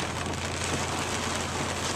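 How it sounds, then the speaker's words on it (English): Heavy rain falling, a dense even hiss of drops on surfaces at moderate level, steady and unbroken for the full stretch with a low traffic rumble underneath. "it starts raining like this"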